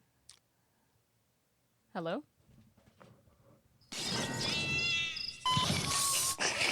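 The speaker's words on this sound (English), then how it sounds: "he jumps out of the window onto like a cat meow soundboard" A single clear cat meow from a soundboard sound effect rings out after a faint click, followed by loud chatter and laughter from several people.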